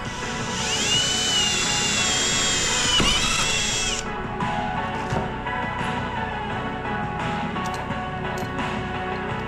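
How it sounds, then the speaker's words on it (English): A power drill whines steadily at high pitch for a few seconds drilling a hole in a new shop, then stops, leaving a busy workshop background with light knocks and handling noises. "Drill a hole."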